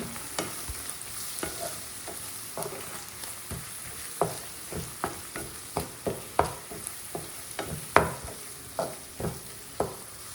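Ginger garlic paste with curry leaves fries in hot oil while a spoon stirs and scrapes the pan in a steady rhythm of regular knocks, all over a constant close sizzle, with no voices.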